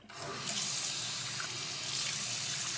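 Hot water gushing steadily from a household tap into a sink, a continuous broadband splashing hiss that stays loud and close throughout with no talk over it.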